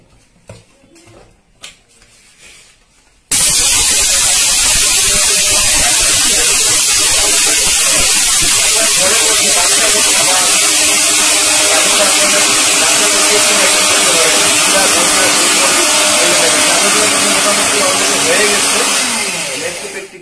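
Orpat 1200 watt mixer grinder powdering boiled rice, starting abruptly after a few quiet seconds of handling noise into a loud, steady roaring whir that holds for about seventeen seconds and then begins to wind down.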